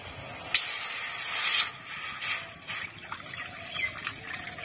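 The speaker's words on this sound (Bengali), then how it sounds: "এখন আরেকটা শুকনো কড়াই বসিয়ে দিয়েছি, এখন জল দিয়ে দেবো একটু।" Water poured into a hot, dry wok bursts into a loud steaming hiss, then crackles and fizzes in a few weaker surges as it settles, close by with no talking.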